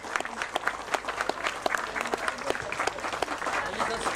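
Audience at a rowing regatta award ceremony claps for a prize presenter, a fairly quiet, scattered burst of individual hand claps with distinct sharp hits, as if heard from some distance.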